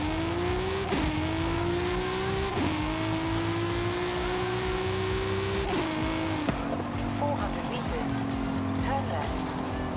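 A Volkswagen Golf GTI engine revs hard while racing in Forza 5, its pitch climbing through repeated gear shifts with brief dips between, loud and sustained, with tire noise and a voice talking over it.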